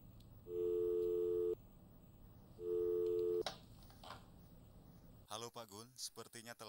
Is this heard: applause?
no